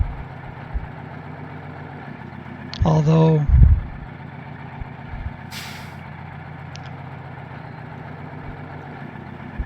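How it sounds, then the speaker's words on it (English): A diesel truck engine idles in the off-road driving game Mud Runner, a steady low rumble running the whole time. A short, loud air-brake hiss bursts out partway through, and a voice talks now and then. "by the sound they would be diesel engines"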